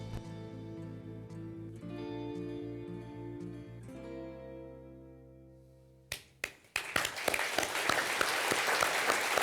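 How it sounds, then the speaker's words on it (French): Sustained organ-like music fades, then an audience at an evening civic event bursts into loud, dense applause that continues to the end. "On peut les applaudir."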